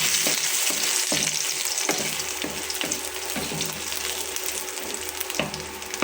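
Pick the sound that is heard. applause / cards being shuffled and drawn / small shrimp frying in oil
small shrimp frying in oil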